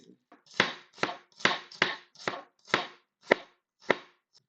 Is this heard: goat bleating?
no